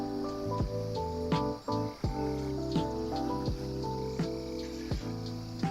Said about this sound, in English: If I move my head around, the cricket sounds are from behind me now